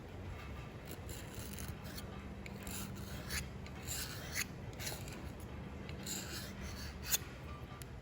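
Steady abrasive scrubbing on an aluminum Audi 2.0T TFSI cylinder head, clearing gunk before a head gasket job, close and continuous with a rasping back-and-forth rhythm and a few louder scrapes, no voices.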